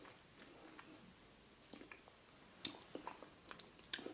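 Soft boiled egg cooked in an air fryer being chewed close up, with quiet, soft squishy bites and a few sharper crunchy clicks spread over a few seconds in a quiet room.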